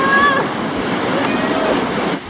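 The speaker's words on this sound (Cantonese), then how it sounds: "咁啊加上而家呢個瀑布都幾澎湃啊" A powerful waterfall on Ping Nam Stream, a rocky gorge stream, pours steadily in a dense, unbroken roar, close and loud, with a short whistle-like tone near the start.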